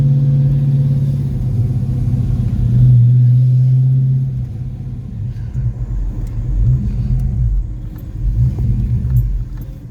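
A Foxbody Mustang engine idles roughly with a deep, uneven rumble that surges and sags before dying out, heard up close in a garage with no talking.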